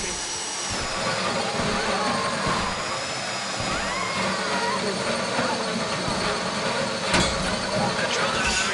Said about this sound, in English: How you doing with that drill?